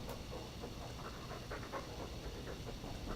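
A dog pants steadily in Dragon Age 2, a quick rhythmic breathing heard close and fairly quiet against a constant background hum.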